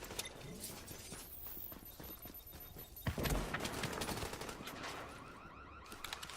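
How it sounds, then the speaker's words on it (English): Bursts of automatic gunfire crackle in a shooter game during a firefight in The Division, a dense rattling volley followed by a heavier thump and continuing shots at moderate loudness. "Oh, he's shooting me."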